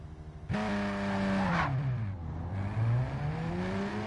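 A race car engine in Gran Turismo 7 roars in abruptly after a quiet moment, revving high, dipping as it shifts and climbing again, loud and close for the rest of the stretch with no talk.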